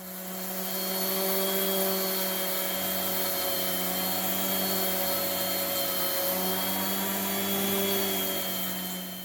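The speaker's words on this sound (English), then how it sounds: "So I'm just going to use my orbital sander. I'm going to start with an 80 grit and work my way up." An orbital sander with 80 grit paper works an oak live-edge slab, giving a continuous, steady motor whine with a grinding hiss, close and even, with no speech.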